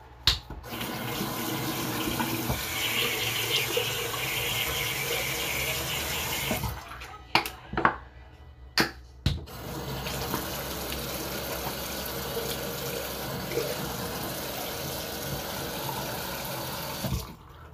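A bathroom tap runs steadily into a sink during face washing with St. Ives blackhead clearing scrub, a continuous close rush of water broken briefly by a few splashes and pauses midway.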